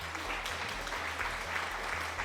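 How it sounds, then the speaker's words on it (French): A short burst of applause fills the whole moment, steady and fairly close, with a low electrical hum underneath and no talking. "Ton explication était tellement bonne qu'ils t'ont applaudi."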